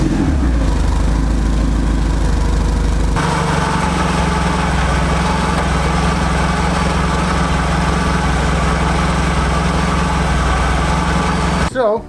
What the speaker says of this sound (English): You can also hear it a bit.